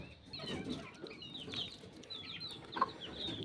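Desi village chickens cluck softly in short, scattered bursts, fairly faint, with a low ambient hum beneath.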